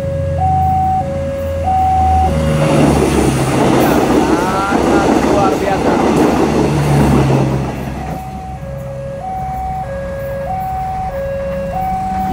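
KCJB feeder train heading toward Bandung passes level crossing JPL 150A while the crossing alarm rings in a steady two-tone rhythm; the rumble of the train's wheels swells in the middle, then fades, and the bells continue.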